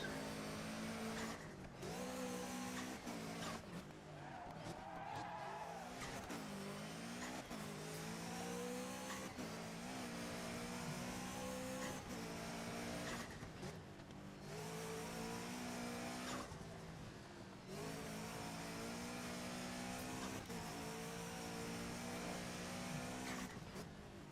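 Rally cars racing in the 2011 PC game Dirt 3. Engines rev and drone continuously, their pitch rising and falling through gear changes, with occasional tire squeal and skidding.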